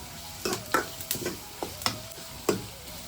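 Onion, fenugreek seeds, cumin, coriander and garlic frying in oil for a gravy, stirred in a pan: several sharp scrape and clatter bursts from a spoon over a soft sizzle, close by and without speech.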